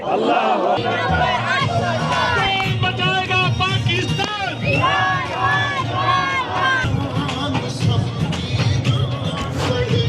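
A large outdoor PTI protest crowd in Dallas, USA, chants slogans for Imran Khan: loud, dense massed voices shouting in rhythm, continuous and near, with individual shouts rising over the crowd.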